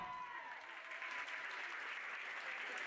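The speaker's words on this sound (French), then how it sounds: "Et vous pouvez les applaudir bien fort." Applause from an audience at a pony eventing prize ceremony, a steady, dense clapping that holds evenly throughout, fairly distant with no voices over it.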